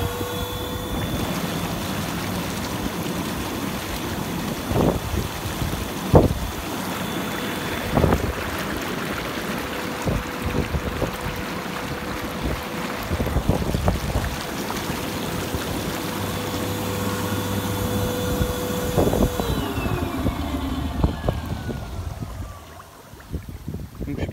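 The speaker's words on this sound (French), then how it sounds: "Ici vous allez avoir des petites bulles." A Bestway Lay-Z-Spa Milan inflatable hot tub runs its bubble jets, a steady broadband hiss and rumble of churning water and air lasting throughout, with a faint tonal pump whine and occasional knocks before it fades near the end.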